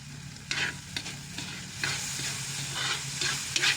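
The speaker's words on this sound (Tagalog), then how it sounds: "Halo-haloin natin mga kapipan" Sisig with chayote sizzles steadily in a pan while a utensil stirs and scrapes through it in irregular strokes, close and fairly quiet, with no talking.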